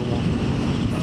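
Low, rumbling wind buffets the microphone beside Chennai's Outer Ring Road, a steady roar that masks everything else for about a second.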